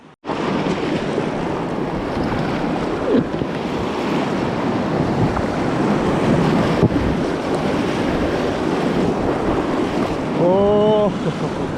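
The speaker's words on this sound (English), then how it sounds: "Let's just make sure Scotty doesn't lose anything in the rapids again." River rapids rush continuously and loudly around a packraft in the Australian wilderness, a dense, unbroken roar of churning water with a brief tonal cry near the end.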